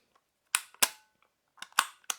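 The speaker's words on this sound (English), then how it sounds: "So very crisp click, and it does have a strong spring on the inside," An OXO Good Grips POP storage container push button snaps with several crisp, sharp clicks driven by a strong internal spring, arriving in two close pairs of quick clicks with small handling ticks between, near and alone.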